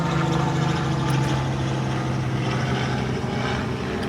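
A helicopter passes overhead, a steady droning rotor and engine hum with a low throbbing tone that holds loud and continuous for several seconds, without talk.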